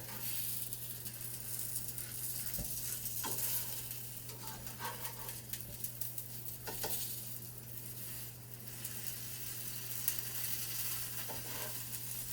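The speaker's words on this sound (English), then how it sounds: "Let the tortillas fry for about 2 minutes, 2 to 3 minutes on each side until they get nice and crisp and golden brown" Tortillas folded over cheese fry in a hot pan with a quiet, steady sizzle, broken by occasional soft taps and scrapes of a utensil against the pan.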